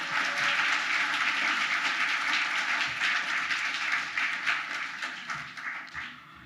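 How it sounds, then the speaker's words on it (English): A crowd of San Francisco Science Hack Day attendees applauds in a dense, steady wash of clapping that gradually fades toward the end. "Round of applause for San Francisco Science Hack Day old-timers"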